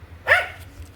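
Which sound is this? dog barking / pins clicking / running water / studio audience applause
dog barking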